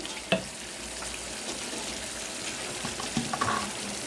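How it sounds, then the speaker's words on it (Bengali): Eggs frying Chinese style in a pan of cooked-down spice masala give a steady close sizzle, broken by a few sharp spatula scrapes and clicks near the start and again toward the end. "ডিমটা ভাজি করে নিয়ে চাইনিজ স্টাইলে ডিমটা রান্না করে নিচ্ছি"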